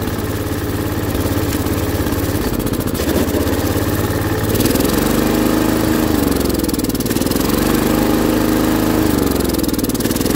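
A 40-year-old John Deere garden tractor engine runs close and loud with a rough, steady mechanical chatter and hum, its pitch swelling and dipping slightly a few times as it labors and recovers.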